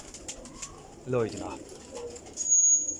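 Teddy pigeons coo softly close by, with one clear burst of cooing in the middle among faint chirps, while someone talks over them.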